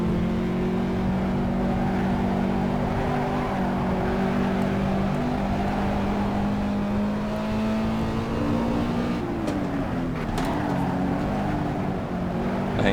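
Race car engine in Assetto Corsa on the Nürburgring GP circuit, driven hard in a league sprint: a sustained loud drone holds high revs with small pitch shifts, dips and climbs again near the end, alone and up close.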